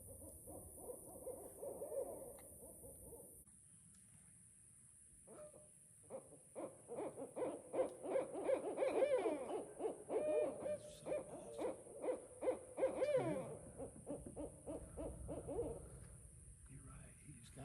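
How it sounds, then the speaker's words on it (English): Owls hoot in a rhythmic series of calls, fairly distant, with a faint voice and a steady high-pitched hum in the background. "called in these owls"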